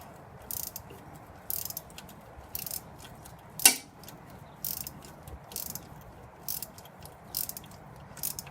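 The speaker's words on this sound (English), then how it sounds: "I go on the bottom with the socket wrench. Okay, I'm just going to loosen both of these at once" A socket wrench ratchets while loosening corroded front shock bolts on a Jeep ZJ, with short bursts of crisp clicking repeating roughly every second, close and fairly quiet, plus one sharper metallic clank midway.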